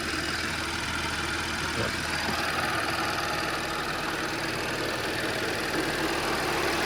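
An Audi A6 C6 3.0T supercharged engine idles steadily at close range with a broad, even mechanical hum and faint knocking texture, a brief word spoken over it.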